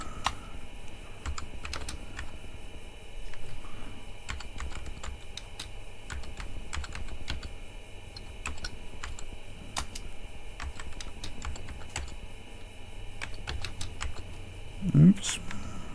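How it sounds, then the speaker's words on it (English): Steady, fast clicking on the keyboard of an IBM 5150 clone computer kit, close and continuous, with a short vocal sound near the end. "Hard to type around the camera mount."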